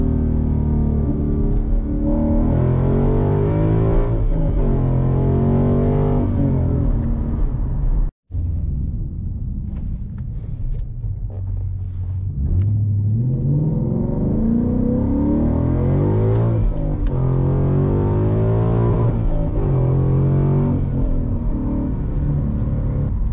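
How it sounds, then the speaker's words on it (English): A Ford Mustang, either a 2015-2017 GT 5.0 or a 2012 Boss 302, launches and pulls hard with a loud, steady engine roar that climbs through the revs, briefly cuts out, then builds again with a long rising pull. "the launch kind of feels really subdued"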